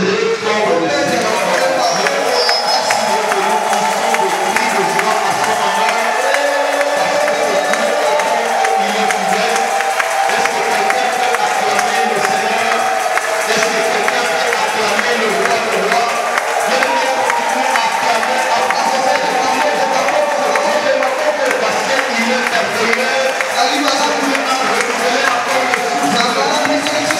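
A church congregation cheers and shouts praise to the Lord, a loud and continuous crowd roar with clapping mixed in that holds steady throughout.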